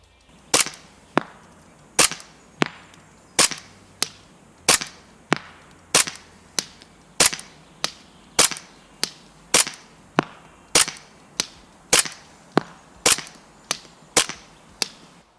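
Shots from an ASG CZ 75 SP-01 Shadow airsoft pistol fired at a 30-metre range ring out as sharp, loud cracks, about twenty of them in a steady, evenly spaced rhythm with no talking.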